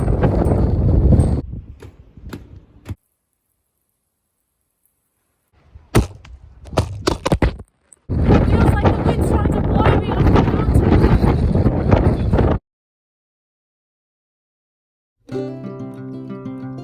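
Strong wind buffets the microphone on the summit of Mount Wellington (kunanyi), roaring in loud gusts that cut in and out with silent gaps, with a short burst of other noise near the end.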